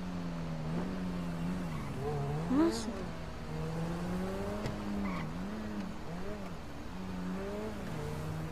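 A car in GTA 5 on PS4 runs with a droning engine whose pitch rises and dips as it slows and speeds up, with a brief sharp tire squeal partway through as it brakes.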